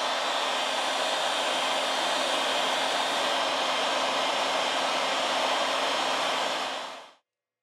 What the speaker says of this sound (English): With the help of a heat gun, we apply 90 Celsius degrees during 4 minutes.